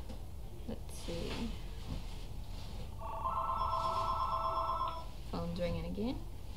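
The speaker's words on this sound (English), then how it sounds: "Phone's ringing again." A telephone rings in a barn with a bright electronic trill lasting about two seconds, and brief voice-like sounds come just before and after.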